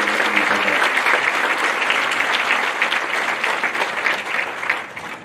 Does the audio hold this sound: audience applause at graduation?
yes